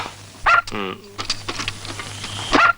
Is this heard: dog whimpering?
yes